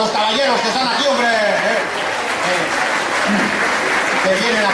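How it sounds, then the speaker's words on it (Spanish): Applause from an audience for the gentlemen present at a gathering, heard under a loud voice speaking continuously over the clapping. "un aplauso a los caballeros que están aquí"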